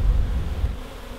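Honey bees from a split hive box buzz around in a brief, close, dense low hum, with some wind rumble mixed in.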